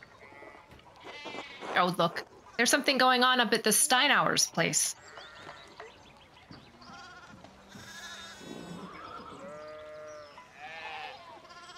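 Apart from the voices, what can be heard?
sheep bleating in video game Pentiment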